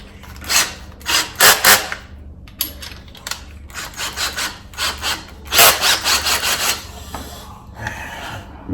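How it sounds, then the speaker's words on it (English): A big drill bit bores a hole through a PVC enclosure panel with rough, scraping, grinding bursts. The bursts come in short repeated pulses, close and fairly loud, with brief pauses between them. No one speaks. "About to put on the big drill bit."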